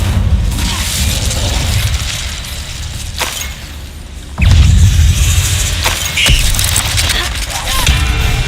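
A fire spell cast in a game, a Harry Potter-style duel against a spider, bursts out as a loud booming whoosh over constant rumbling combat noise, with several sharp blasts and crashes scattered through the scene.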